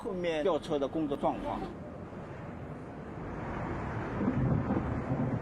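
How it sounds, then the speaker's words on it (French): Torrential rain and thunder batter the Shanghai Tower construction site, forming a dense, steady roar with deep rumbles that swell toward the end. A brief voice is heard at the very start. "Une pluie torrentielle a temporairement interrompu les opérations."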